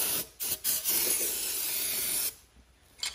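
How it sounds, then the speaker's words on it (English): Compressed air blasts around the engine of a John Deere D100 lawn tractor with a 17.5 hp Briggs & Stratton engine, heard as several short hissing bursts followed by one long sustained spray, then a brief final puff, close and fairly loud. "A little compressed air in here."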